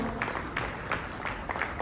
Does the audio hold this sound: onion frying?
no